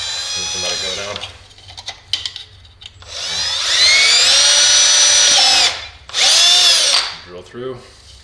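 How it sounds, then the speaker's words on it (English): A power drill whirs loudly up close in two long bursts, drilling through plastic on an explosion-proof emergency LED light, with a person speaking briefly before and after. "Drill through."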